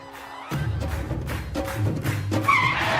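A car breaks down, its engine abruptly sputtering and grinding with rough bursts of noise at close range, heard alone without voices.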